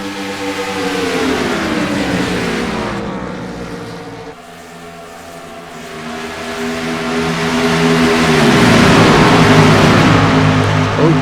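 Race cars lapping an oval short track at Eagle Creek Speedway, engines roaring loudly as they pass, pitch sweeping down with each car going by, then a fresh swell as the pack comes around again.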